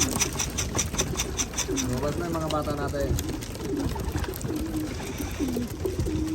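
Racing pigeons coo in their loft after a headwind race, soft repeated throaty calls and rustling under a man's speech nearby.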